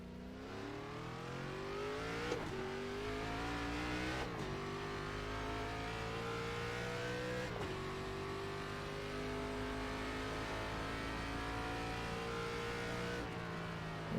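A K5 race car engine in iRacing at Phoenix, droning steadily at high revs with several sharp dips and climbs as gears shift, loud and continuous with no talk.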